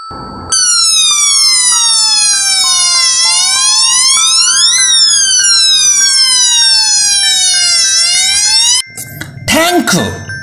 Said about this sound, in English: Fire engine. This is a fire engine.